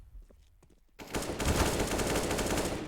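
An AK rifle in a competitive video game match opens up in sustained rapid automatic fire after a brief quiet stretch, loud and continuous to the end.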